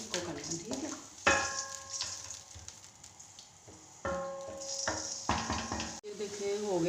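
Two chopped onions sizzle in a pan for kadhi pakora, a steady close frying hiss with clattering stirring bursts from a utensil, while someone talks over it.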